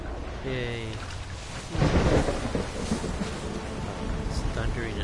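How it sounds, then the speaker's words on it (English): A rumbling thunderclap rolls over steady rainfall in the video game Flower, with the rain hissing throughout and the thunder swelling loud near the start before easing back; someone talks faintly over part of it. "It's thundering and raining."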